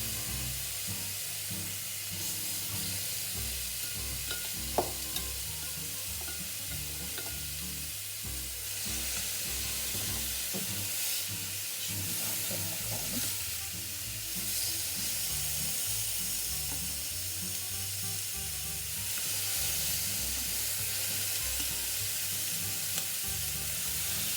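Salmon fillet frying in a hot, dry pan with no oil added, a steady close sizzle and hiss running continuously throughout, with faint clinks of utensils and no talking.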